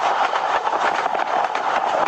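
A train in Train Simulator Bangladesh rolls along with a continuous loud rumble and rapid rhythmic clicking, steady throughout with no voices.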